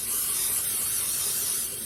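Cooking spray hisses from a can into a baking dish, one steady close aerosol burst lasting about two seconds with no talk over it.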